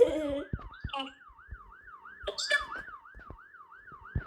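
A police car siren wails in a steady rising-and-falling cycle, fairly close, while a few short voice fragments and thumps interrupt it, in the video game GTA 5.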